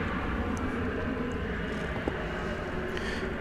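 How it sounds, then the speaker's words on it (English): An American Airlines jet at DFW Airport gives a steady, broad engine roar at moderate distance, holding evenly for a few seconds with no voices over it. "Here is American Flight 35 going to Auckland."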